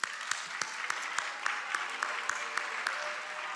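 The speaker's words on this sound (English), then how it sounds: "let's turn around and give a round of applause to your outstanding parents" Applause for parents at a high school ninth grade academic awards ceremony, a brief, fairly faint patter of clapping from a gathered audience with a few sharper claps standing out.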